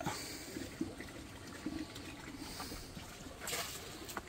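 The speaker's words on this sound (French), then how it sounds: "Il remplit 10 litres, il en renverse 6 dehors" Pumped, filtered water being poured into a container in the Pyrénées, a steady close rushing and splashing pour with a few louder gushes and spills.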